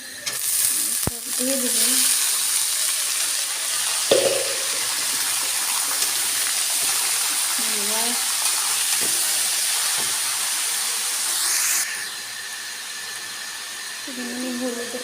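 Steady frying sizzle from a pan runs throughout at moderate loudness, with a voice speaking briefly over it now and then; radish is among the ingredients being prepared.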